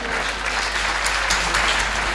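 Audience applause at a Hindi kavi sammelan poetry recital: a steady, dense burst of clapping from a crowd throughout, with no talk over it.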